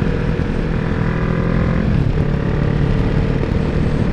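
A 125cc motorcycle engine pulls slowly up a hill at low speed, its steady, loud, continuous drone mixed with wind rush throughout.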